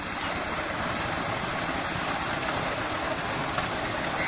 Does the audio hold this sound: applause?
no